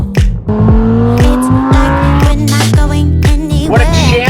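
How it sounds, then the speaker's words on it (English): A Lamborghini Huracan Evo on a city street on the way to the Long Beach Grand Prix, its engine loud and close, with rising revs stepping up through several quick gear changes and a brief tire squeal. "Nice Huracan Evo."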